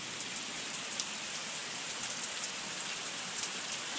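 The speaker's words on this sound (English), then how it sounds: "Rayleigh out playing in the rain." Steady rain falls on an outdoor surface in a dense, even hiss of droplets, fairly quiet and continuous with no voices or thunder.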